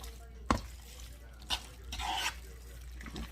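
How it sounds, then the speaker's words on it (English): Mac and cheese ingredients mixed in a bowl for a smoked salmon baked dish, with a few soft scrapes and clinks of the utensil against the bowl, fairly quiet and intermittent. "And we're mixing it"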